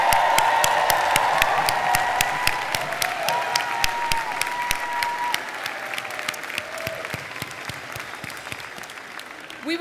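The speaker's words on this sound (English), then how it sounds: "one more round of applause for all the people whose love and support made this day possible" Loud crowd applause at a law school commencement ceremony, dense clapping with a few whoops and cheers, slowly thinning toward the end while scattered claps continue.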